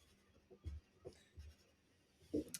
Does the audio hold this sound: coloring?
yes